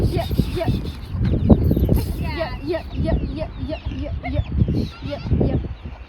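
Chickens being herded cluck in short repeated bursts while people talk loudly nearby, the clucks weaving through the conversation.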